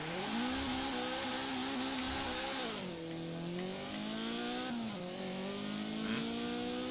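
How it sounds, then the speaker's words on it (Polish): A small Datsun car engine in Forza Horizon 4 revs loudly and steadily, its pitch dipping and rising again as the car shifts and accelerates. "Ładnie brzmi teraz w sumie ten silnik."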